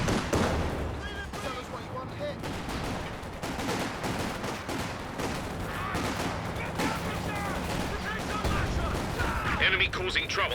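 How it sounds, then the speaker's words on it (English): Artillery barrage in Company of Heroes 2, a dense, continuous rumble of explosions and gunfire crackling throughout, with repeated booming impacts and scattered shots layered under a constant battle din. "Still barraging back there, maybe hoping to chip away at the weapon health."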